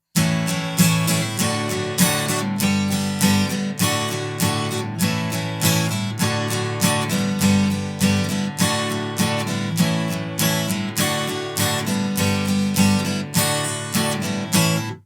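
Steady rhythmic guitar strumming, loud and close, with regular strokes repeating in an even pattern throughout.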